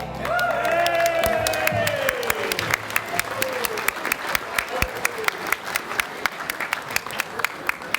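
A comedy club audience breaks into loud, sustained applause with cheers and whoops: dense, close clapping that starts over fading cheers from many voices and keeps a rapid, even beat to the end.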